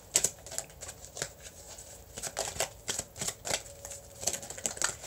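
Angel cards being shuffled by hand, a run of soft, brisk riffling flicks and taps close by, irregular in rhythm and fairly quiet, with no talking.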